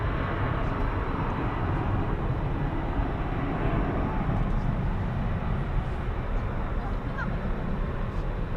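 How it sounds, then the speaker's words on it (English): A UPS Boeing 767 takes off and fills the air with a loud, steady jet roar that holds for several seconds, and a voice talks faintly underneath. "Now we've got UPS 767 action."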